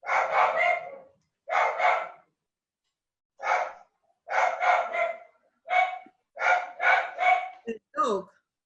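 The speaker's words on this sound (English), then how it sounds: "The dog barking loudly." A dog barking loudly during an online conversation, several sharp close barks in quick bursts with short pauses between them, followed by a brief panting or whining sound at the end.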